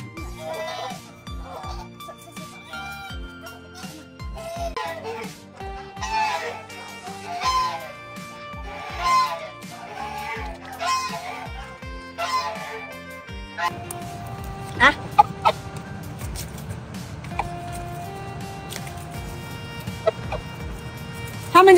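Domestic fowl and geese clucking and calling while being fed grain soaked in water, repeated close bird calls in the first half giving way to softer pecking and rustling sounds and occasional clicks later.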